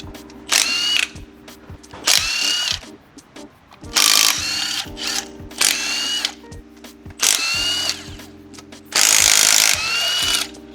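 Bolts on the upper oil pan of a VQ35DE engine being removed with a power tool, which fires in repeated short whirring bursts separated by brief pauses, loud and close.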